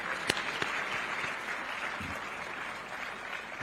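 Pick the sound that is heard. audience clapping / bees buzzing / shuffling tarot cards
audience clapping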